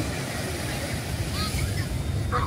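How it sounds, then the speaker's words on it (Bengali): Ocean surf on Puri beach at night keeps up a steady, close roar of breaking waves with no clear gaps between them. "শুধু জলরাশি আর ঢেউ চলে আসছে একটা করে"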